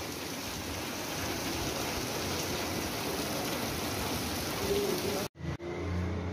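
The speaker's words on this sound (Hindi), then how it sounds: "बारिश शुरू हो गई है" Heavy rain pours steadily as a dense, even hiss, with traffic-like rumble mixed in, then briefly cuts out near the end before resuming.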